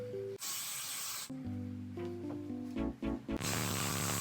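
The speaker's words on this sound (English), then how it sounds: "I'm just gonna be spraying that all throughout" Two bursts of hairspray hiss close by as it is sprayed on hair, one short at the start and one at the end, with soft background music between.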